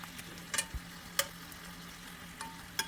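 Filipino pork steak frying in a pan, a faint steady sizzle with a few sharp clicks and scrapes of stirring scattered through, no talking.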